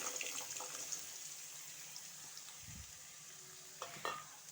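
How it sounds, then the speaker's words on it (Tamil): Bitter gourd pieces, salted and drained, fry and stir in oil on medium heat, giving a faint steady sizzle with soft scraping stirs and a couple of brief clinks near the end. "இதை எண்ணெயில் வறுத்துக்கலாம்."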